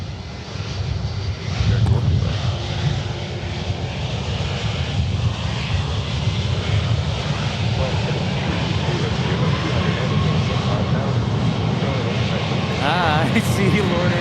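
A FedEx jet rolls for takeoff on runway 18 left at Memphis International Airport, a loud, steady engine roar lasting throughout, with voices and radio chatter faintly underneath.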